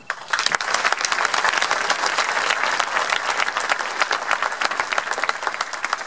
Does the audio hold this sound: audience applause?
yes